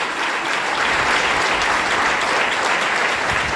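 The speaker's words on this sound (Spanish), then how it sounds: "si le va a aplaudir, apláudale fuerte" A church congregation claps loudly and steadily, a dense, unbroken wash of applause filling the room at full strength for several seconds.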